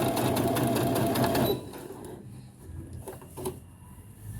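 Brother CS6000XL computerized sewing machine stitching, a fast, even mechanical chatter for about a second and a half before stopping, followed by quieter clicks and handling of the machine.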